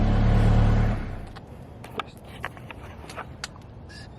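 A Subaru BRZ fitted with a Spec D Tuning full exhaust gives a loud, close engine rev for about a second, then settles to a low idle with faint clicks and shuffling around it.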